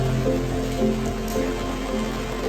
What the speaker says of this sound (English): It just suddenly started raining.